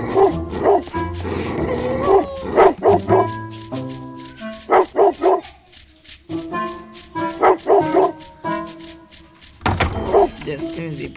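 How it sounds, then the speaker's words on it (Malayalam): A dog in the Robbery Bob video game barks in repeated bursts of yips and woofs, loud and close, mixed with game sounds and a person talking over it. "ജസ്റ്റ് ഈ പട്ടി ശല്യം."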